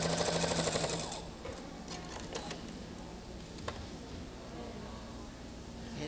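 A sewing machine stitching quilt pieces with a rapid, close mechanical chatter for about a second, then stopping, followed by faint fabric handling and quiet ticks.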